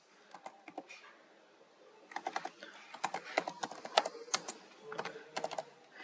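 Fingers type a sentence on a computer keyboard, quick irregular clicks starting sparse then bunching into denser bursts, close and fairly quiet with no talk.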